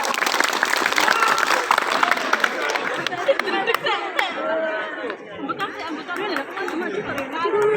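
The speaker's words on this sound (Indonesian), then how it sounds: "Tepuk tangan untuk MBC Celengkong." Crowd applause and chatter for martial arts students at an outdoor ceremony, dense clapping fading into murmuring voices and talk.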